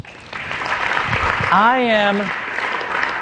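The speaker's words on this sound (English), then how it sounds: "Give him a round of applause." Audience applause at a business talk on motivating employees, a steady wash of clapping for about three seconds with a voice or whoop rising and falling over it partway through.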